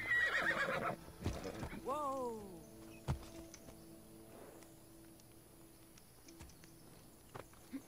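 A horse whinnies in a video game set in ancient Greece, one clear descending neigh amid hoof clops and thuds, then quieter ambience with scattered knocks.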